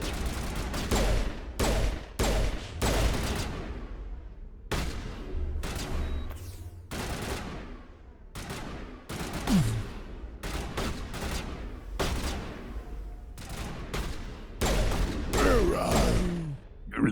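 Bursts of gunfire in the sci-fi shooter Mass Effect, repeated sharp shots and rapid volleys in uneven clusters throughout, loud and close, with brief gaps between bursts.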